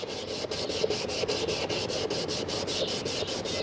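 Plastic car trim is sanded by hand with 320 grit sandpaper, producing a fast, regular back-and-forth rasp of close, even strokes with no talking.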